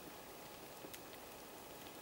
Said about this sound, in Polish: Trochę pada deszczykiem, ale to nic.